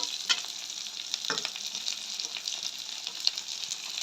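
Spices and curry leaves fry and sauté for a Jaffna-style prawn curry, a continuous moderate sizzle with occasional spoon knocks and scrapes against the pan.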